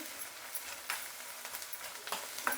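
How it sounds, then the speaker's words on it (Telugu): Ginger garlic paste frying in a pan for egg curry makes a soft, close sizzle broken by small crackles and light scraping clicks, fairly quiet throughout. "ఇప్పుడు ఈ అల్లం వెల్లుల్లి పేస్ట్ కూడా బాగా వేయించుకోవాలి"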